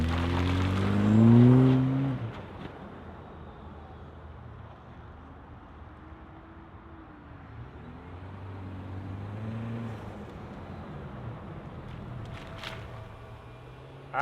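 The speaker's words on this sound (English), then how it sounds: "let's fire it up and see this TRD Pro roll." A 2025 Toyota 4Runner TRD Pro starts up with a loud burst at the outset, then settles into a steady engine hum and rolling drive. The tone rises and falls through gentle revs and continues alone to the end.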